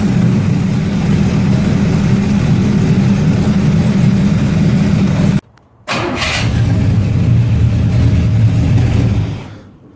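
A car engine with a Carter/Edelbrock carburetor running on E10 ethanol gas roars loudly and steadily up close, briefly cutting out for a moment before resuming, then fading at the end.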